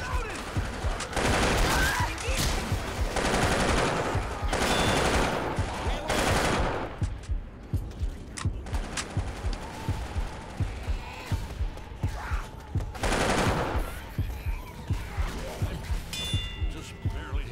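In a zombie-shooting video game, bursts of rapid automatic gunfire crackle in dense volleys, then thin out into scattered shots and a final burst. Players talk over the gunfire.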